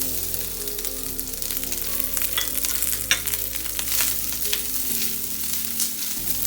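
Coconut stir-frying in a pan with garlic, tamarind and onion, a steady close sizzle with scraping stirs and clinks running continuously throughout, no talking.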